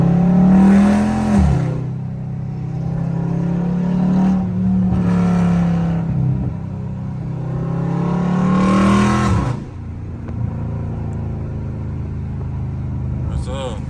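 A loud Dodge Scat Pack in traffic gives several sharp rising revs, each a throaty burst that climbs and then falls away. Someone talks over and between the bursts.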